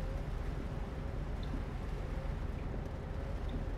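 Steady rain hissing in a driving game, a soft continuous wash of falling drops with a low rumble beneath and no talk.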